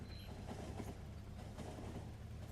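A train on solid fuel runs along its track in the video game Factorio, giving a steady rumbling rail clatter for a few seconds, fairly faint and alone without talk.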